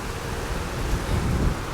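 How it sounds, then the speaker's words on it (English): A river rushing below a bank on Dartmoor gives a steady, dense roar of water, loud and unbroken throughout, with some wind buffeting the microphone. "There's a loud sound which I assume to be the river"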